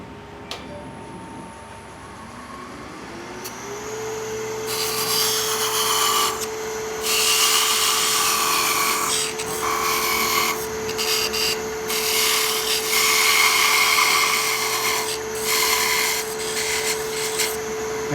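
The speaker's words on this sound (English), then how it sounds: "So I'll take my parting tool." A parting tool cuts into a spinning wooden Christmas ornament blank on a lathe, the motor's steady whine rising at start-up, then bursts of loud scraping and hissing wood cutting come and go over the hum, close by.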